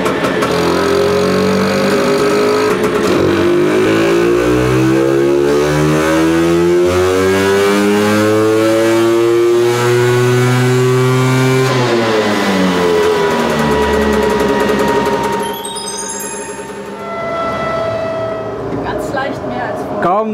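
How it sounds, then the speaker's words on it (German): A tuned Vespa scooter's two-stroke engine revs hard up to 8000 rpm on a dyno, pitch climbing steadily for about twelve seconds, then dropping off as the throttle closes and idling down, loud and close throughout. "Ich bin bei 8000 Umdrehungen am Gas gegangen."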